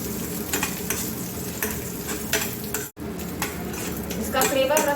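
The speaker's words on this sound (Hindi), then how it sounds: "इस ड्राई फ्रूट्स को हम डाल देंगे घी में और इसे 1 से 2 मिनट हम भून लेंगे।" Dry fruits fry in ghee in a frying pan, a steady close sizzle broken by scraping strokes of a spoon against the metal, with occasional utensil clinks.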